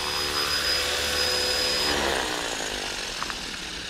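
A Blade 330S RC helicopter flying and being brought down to land, its motor and rotors giving a loud, steady whine that shifts in pitch and eases slightly toward the end.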